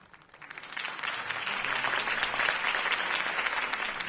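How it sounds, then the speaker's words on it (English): Steady crowd applause follows a campaign speech in the Batman Telltale video game, a dense wash of clapping that swells in over the first second and holds loud and even to the end. "If only Mr. Wayne, my campaign's largest backer, could have heard that applause"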